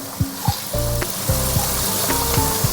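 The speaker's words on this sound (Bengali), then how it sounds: "তেল গরম হয়ে গেছে, পেঁয়াজগুলোও দিয়ে দিই পুরোটাই" Chopped onions fry in hot oil, a close sizzle with scattered clinks and scraping stirs of a utensil against the pan, no voices.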